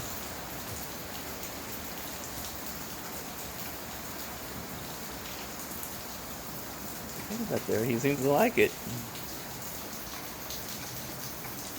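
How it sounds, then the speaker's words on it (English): Rain falls steadily and softly throughout, a dense even patter outdoors around a bearded dragon, with a person speaking briefly near the end over the rain. "Your first time to play in the rain."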